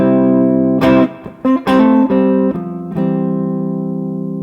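Electric guitar plays a short lick in double stops of thirds, several loud, sustained two-note chords with sharp attacks and a long ringing final chord.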